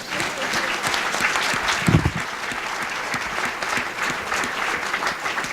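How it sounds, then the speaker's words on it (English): A crowd claps steadily and fairly loudly for several seconds, dense and continuous, with no one speaking over it. "let's give Wes another round of applause"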